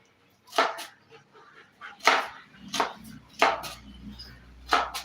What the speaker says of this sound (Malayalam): ഇതിൻ്റെ ഉള്ളി നമുക്ക് പെട്ടെന്ന് പെട്ടെന്ന് തന്നെ അരിഞ്ഞ് സെറ്റ് ചെയ്തെടുക്കാം